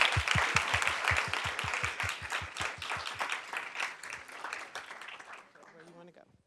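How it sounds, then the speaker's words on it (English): Audience applause at a school board business meeting, rhythmic and fairly distant, with one near clapper beating steadily before the clapping thins out, and voices talking beneath it. "Let's give them another round of applause."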